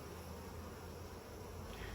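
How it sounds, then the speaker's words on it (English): Honeybees, nurse bees with a few drones, buzz densely on a nuc frame of capped honey, a steady close hum filling the whole moment with no pauses. "Lots of bees, lots of nurse bees, and a few drones"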